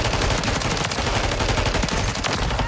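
Rapid, dense gunfire from the Modern Warfare 3 video game, with automatic bursts and overlapping shots rattling continuously and loudly for the whole stretch.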